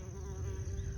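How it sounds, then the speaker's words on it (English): Bees buzzing around squash flowers in a late-summer garden, a close, steady droning hum that holds for about a second. "lots of bees."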